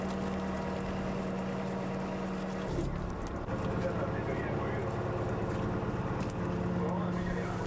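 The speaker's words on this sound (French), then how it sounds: "Il embraye le mécanisme et procède au remontage de sa deuxième filière." A fishing boat's net hauler, engaged to reel in a second string of sole nets, drones with a steady mechanical rumble and engine hum on deck, continuous and close, with a shift in tone partway through.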